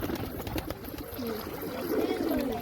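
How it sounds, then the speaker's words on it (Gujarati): Thirsty pigeons coo close by, several soft, low warbling calls rising and falling over rustling and faint background noise. "કબૂતર કેવા તરસા થયા તમે જો ખાલી"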